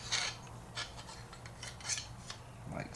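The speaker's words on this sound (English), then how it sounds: "you can take your bolt and slide it in the back of the receiver" A Tec-9 bolt sliding into the back of the receiver, heard as soft, close metallic rasping and scraping with a few faint clicks.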